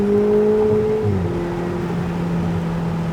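Lamborghini Huracan engine on a race track, a steady drone whose pitch drops at a gear change and then holds, loud and close throughout with no talking.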